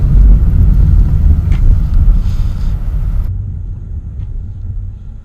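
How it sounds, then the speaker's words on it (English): A Ford Mustang gives off a deep, loud engine rumble with some wind buffeting, heard close at first and gradually fading and thinning toward the end. "I really do love the sound of the Mustang."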